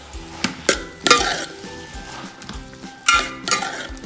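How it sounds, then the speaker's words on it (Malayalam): Chopped tomatoes go into a pan of frying chicken curry, with several sharp, close clinks and knocks of spoon against pan over a low, intermittent sizzle. "നമ്മളെ തക്കാളി അരിഞ്ഞിട്ടൊന്ന് ഇതിലെടുത്തിടുക"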